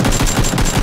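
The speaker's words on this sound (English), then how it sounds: "Somebody shot me!" Rapid gunshots ring out in PUBG, a fast, loud burst of about four evenly spaced shots close by.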